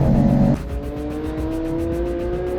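A BMW and a Volvo 240 race car in a time attack at Streets of Willow, engines revving hard near the final corner, a loud steady drone with rising pitch after a brief louder burst at the start.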